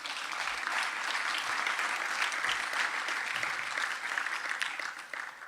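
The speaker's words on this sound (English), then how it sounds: "perhaps give yourself a big round of applause" Audience at a social justice lecture giving a big round of applause, dense sustained clapping from a large crowd filling the hall, steady throughout and tapering slightly at the end.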